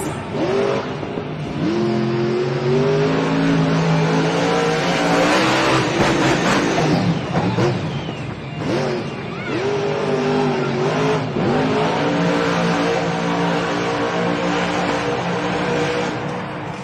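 A monster truck roars through a freestyle run over crushed cars in a Stockholm arena, its engine revving hard and loud with surging throttle bursts and tire squeals for the whole stretch.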